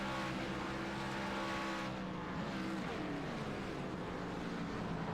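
A race car in a racing video game at Iowa spins out, engine and tire tones sweeping and wavering over a steady engine drone of other cars, fairly quiet, no voices.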